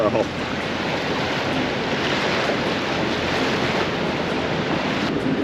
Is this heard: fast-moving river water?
yes